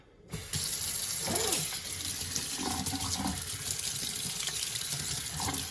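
Cold water from a kitchen tap runs over boiled lobsters in a sink, starting after a brief silence and then gushing in a steady, close splashing stream.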